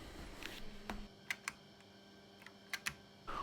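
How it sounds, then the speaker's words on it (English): Keys struck on an IBM PS/2 P70 keyboard during a diagnostic test: a handful of sharp, separate clicks at an irregular pace over a quiet hum, close to the mic and with no voices. "We can test the keyboard"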